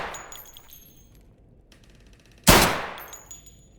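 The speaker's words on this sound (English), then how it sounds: "There's so much gunfire going on all over the place." Gunfire in Escape from Tarkov, a few faint distant shots and rattles early on, then one loud close gunshot crack with a decaying tail.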